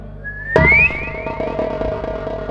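A person whistles a bright rising glide that ends in a sharp hit, followed by a sustained ringing tone over a busy musical background, loud and close.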